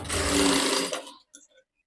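A sewing machine runs a brief, close burst of rapid stitching along a blouse strip, then stops with a few small mechanical clicks and taps.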